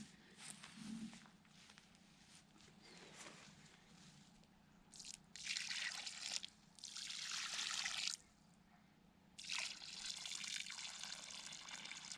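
Water trickles and splashes into soil around the base of a tree outdoors, coming in uneven bursts of hissing, spattering flow separated by quieter gaps, fairly close and moderate in level.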